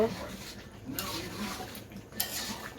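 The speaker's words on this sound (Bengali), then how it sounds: "রান্না হয়ে গিয়েছে তো এখন নাড়তে আসছে" Food being stirred in a cooking pot in a home kitchen: soft repeated scrapes and metallic clinks of a utensil against the pot, faint and steady, under a low background hum.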